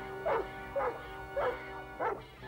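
A cartoon dog in a Smurfs episode barks four times at an even, bouncy pace, each bark clear and close.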